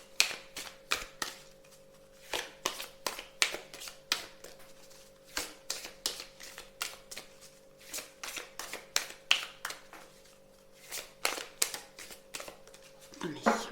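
Oracle cards are shuffled by hand in a run of rapid, crisp riffling and snapping bursts, close and fairly loud, with a low steady hum behind them.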